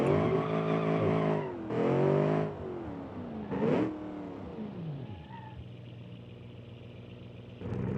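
Late-1960s muscle car in BeamNG.Drive revving hard through several rising bursts, each climbing then dropping as it shifts, before settling into a lower, steadier engine drone.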